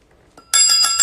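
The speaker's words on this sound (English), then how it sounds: "Oh, ring the bell." A bell rung during a livestream, a bright bicycle-bell-like metallic ring that starts suddenly halfway through and repeats in quick rapid strikes, loud and close, with no talk over it.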